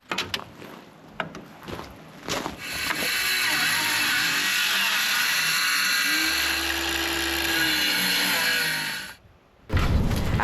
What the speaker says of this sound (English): I'm actually just going to screw this board in real quick